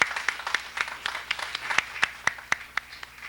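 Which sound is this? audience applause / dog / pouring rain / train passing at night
audience applause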